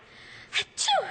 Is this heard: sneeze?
yes